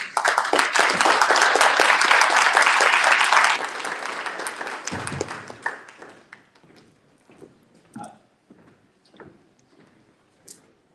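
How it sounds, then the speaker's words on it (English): Audience applause after a keynote on building a national higher education system: loud, dense clapping for about three and a half seconds, then thinning out and fading into scattered claps and quiet room noise. "can we give Dr. Narayan a huge round of applause?"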